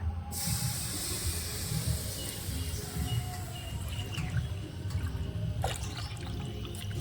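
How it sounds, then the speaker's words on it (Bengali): Water poured into a pan for a semolina (suji) fried sweet, a steady hissing, splashing pour that runs close and fairly loud throughout without pause. "এইবার আমি দিয়ে দেব জল"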